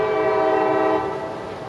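A train in Lakeland area of Florida sounding a sustained, loud multi-tone horn chord as it passes, with rumbling rail noise underneath and the horn fading slightly toward the end.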